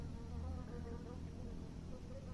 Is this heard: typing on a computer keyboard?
no